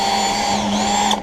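Power tool on a DIY knife grinding jig runs at speed, a steady loud whine with sustained harmonic tones throughout, alone with no talk.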